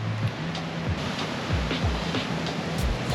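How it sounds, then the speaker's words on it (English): Loud, wild surf pounding a dark-sand beach on Dominica's Atlantic coast: a continuous roar of choppy sea with repeated heavy wave crashes, close and unbroken throughout. "Sea is so loud."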